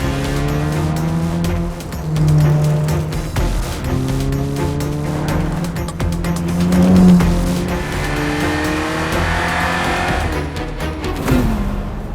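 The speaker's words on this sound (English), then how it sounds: "There's something so wonderfully right about driving a red Ferrari on a road like this" A red Ferrari F8 Tributo powers along a winding country road, its engine note rising and falling steadily through gear changes and bends, loud and close throughout with no talk.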